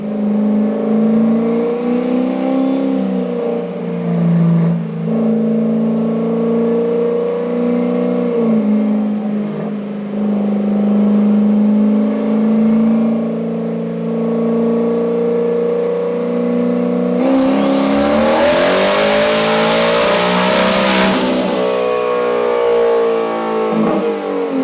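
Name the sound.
single turbo Mustang engine revving on a dyno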